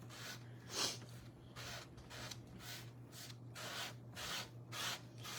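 Rhythmic scraping of wood inside a drilled door hole during installation of a round door hardware kit, a steady series of close, repeated rasping strokes.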